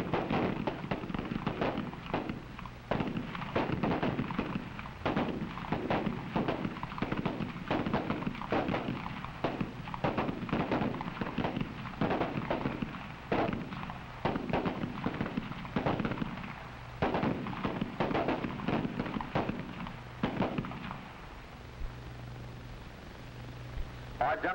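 Rounds crack out at an FBI shooting range firing line in a steady series of sharp reports spaced about a second apart, loud and slightly distant, with range commands spoken between shots.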